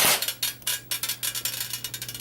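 An Echo1 614 airsoft gun on an 11.1 volt battery fires a rapid full-auto burst, a fast, even string of sharp mechanical clicks with a steady motor hum under it, close and alone.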